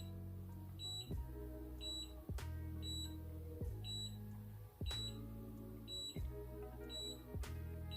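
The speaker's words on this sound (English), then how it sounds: "There will be 8 beeps if your setting is at 8." A series of short electronic beeps from a Conair Unbound cordless auto curler, evenly spaced about once per second, clear and close, with no talking.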